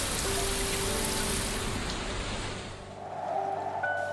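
A rain sound effect in a French children's bedtime audiobook, a close, dense patter of drops on a surface that thins out toward the end of the clip.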